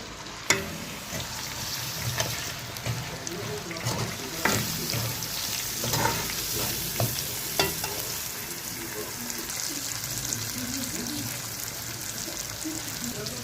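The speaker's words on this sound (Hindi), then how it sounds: "ये अब पहले हम दाल को फ्राई करेंगे।" Lentils for daal mash fry in a pan, making a steady sizzle broken by scattered stirring scrapes and clatters that are loudest early and settle into a smoother hiss, close by.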